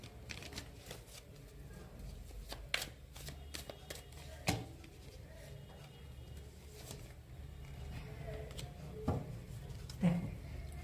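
Playing cards are drawn and handled from a deck, with steady close-up riffling, sliding and flicking interrupted by sharper snaps and taps, continuing throughout without speech.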